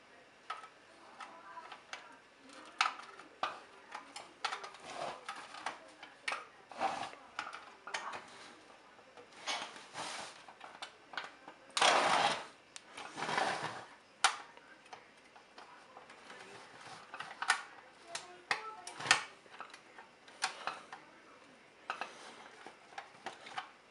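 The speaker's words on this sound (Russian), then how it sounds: "Руль крутится на батарейках." Battery-powered Soviet tin toy Phaeton car running close by, a steady run of small clicking, ticking mechanical taps with louder clattering bursts, heard alone without talk.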